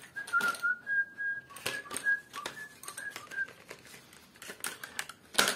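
A person whistles a melody while drawing with traditional techniques, the thin tune wavering in short phrases over steady scratching and tapping of pencil on paper, fairly close and quiet.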